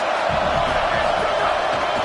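A stadium crowd at a college football game roaring steadily and loudly, a dense wash of voices and cheering that never lets up, with a faint voice mixed beneath it.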